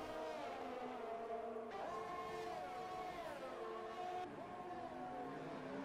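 An F1 2018 video game race car laps Montreal's Canadian Grand Prix track in the rain. A steady, distant engine whine shifts pitch through gear changes and stays constant throughout, with no talk.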